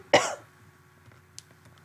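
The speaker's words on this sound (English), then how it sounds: "if you heard me cough, by the way, I am sick" A single sharp, close cough from a sick person, followed by near silence with a faint click.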